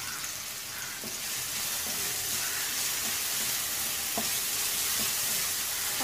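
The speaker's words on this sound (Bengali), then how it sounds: "পরিমাণ মতন একটু পেঁয়াজ দেবো একটু গরম হোক" Onion frying in a hot pan gives a steady, even sizzle that hisses continuously and close up, with a faint clink or two of a utensil.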